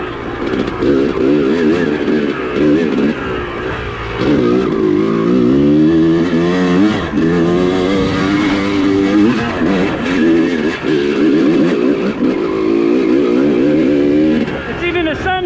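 Motorcycle with a rebuilt engine riding on a hot morning, its engine droning steadily and rising and falling in pitch under wind noise, with a rider talking over it throughout.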